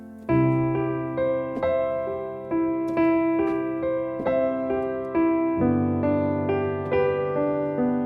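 Slow piano chords played one after another, each struck and left to ring before the next, a calm, even progression with no voices.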